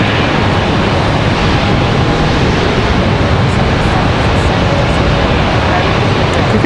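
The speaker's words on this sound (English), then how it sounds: "Wind is very, very gusty at the moment." Gusty wind at Charlotte Douglas International Airport buffets the microphone in a loud, continuous roar that rushes and swells without a break.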